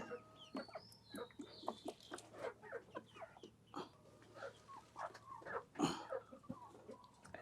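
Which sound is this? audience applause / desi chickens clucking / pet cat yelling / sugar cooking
desi chickens clucking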